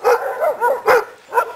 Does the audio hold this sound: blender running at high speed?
no